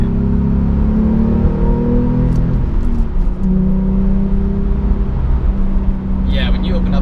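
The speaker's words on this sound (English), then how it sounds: "when you open up that exhaust, it sounds great" Engine of a 2017 Porsche 911 Carrera S with its exhaust opened, a steady loud drone that shifts pitch midway, running under continuous conversation inside the car.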